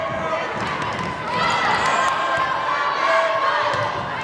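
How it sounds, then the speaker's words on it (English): Wakefield fans cheer during a girls varsity volleyball match against Wilmington in a gym, a loud, sustained chorus of many voices with shouts and squeaks rising after the first second and holding throughout. "Wakefield fires back with their own cheer."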